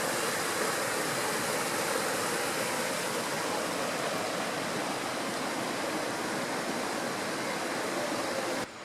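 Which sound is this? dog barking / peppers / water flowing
water flowing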